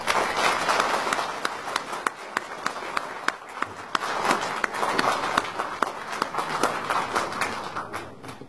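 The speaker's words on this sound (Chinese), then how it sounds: "我建议大家再为龚宪田教授鼓掌" Audience applause at a memorial gathering for Mao Zedong's 120th birthday, honoring a professor after his speech: dense, sustained clapping from a large crowd filling the hall, steady and loud throughout.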